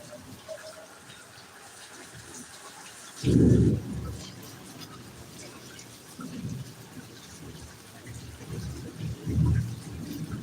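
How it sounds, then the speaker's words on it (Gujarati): Light, fine rain falls steadily during a thunderstorm with lightning, a soft continuous patter broken by a few low rumbles of thunder, one sharp burst near the start and fainter ones later. "અત્યારે વરસાદ તો બહુ સારો હોય છે હજી આવે છે ઝીણો ઝીણો"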